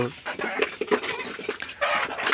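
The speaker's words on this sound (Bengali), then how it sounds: "ওই যে দেখেন দেশি বাচ্চাগুলা" Local deshi chicks on a poultry farm, their thin chirps and peeps coming in short scattered bursts through a busy, noisy background.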